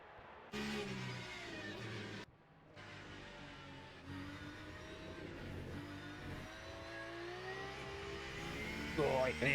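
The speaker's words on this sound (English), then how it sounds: "I can hear him lighting up the tyres" A Porsche GT3 Cup car revs and spins its tyres at Fuji in a racing video game. The engine drone holds steady and rises near the end, with a commentator talking over it.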